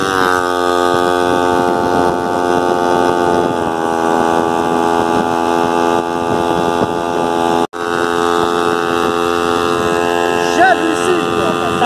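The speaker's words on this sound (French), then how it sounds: "et le moteur, c'est très loin d'être une foudre de guerre" A small moped fitted with a homemade hybrid engine runs steadily, a loud, even buzzing drone with a strong harmonic whine that holds constant, broken by one brief dropout near the end.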